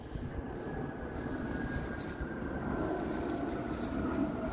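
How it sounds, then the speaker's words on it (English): Aeroplanes from RAF Valley rumble far off as a low, steady drone that slowly swells across an open country park, with no nearby voices. "can hear those aeroplanes from RAF Valley again in the distance"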